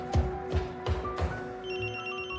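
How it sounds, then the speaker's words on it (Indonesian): A mobile phone rings after being pressed by accident. Steady repeating pulses of an electronic ringtone sound at a moderate level, with a sustained tone behind them and no speech. "Suara dering yang tak diinginkan itu langsung terdengar oleh Ignacio."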